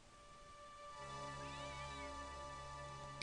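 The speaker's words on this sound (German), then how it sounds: "Katze!" A cat meows in a point-and-click adventure game, Broken Sword, heard over a steady, droning game soundscape with music, with a short sharp sound at the very end.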